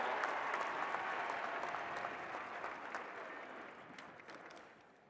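Crowd applause at the 2023 Georgia Bulldogs national title celebration for UGA President Jerry Moorhead, a large, somewhat distant wash of clapping that gradually tapers off.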